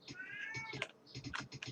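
An old male cat meows and cries indoors in a short, strained burst before jumping up onto a windowsill, close and fairly loud, with soft keyboard typing clicks tapping beneath it.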